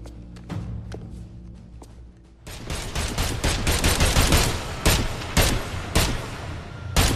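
Gunfire in the game Agents of Mayhem: a few scattered sharp shots at first, then a loud sustained barrage of rapid bursts with distinct cracks standing out near the end.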